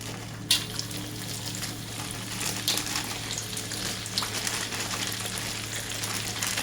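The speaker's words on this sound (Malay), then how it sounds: "Kita nak goreng ikan bilis." Dried anchovies fry in hot oil in a wok over a gas flame, giving a steady, fairly loud hiss and sizzle with a few sharp pops and clicks.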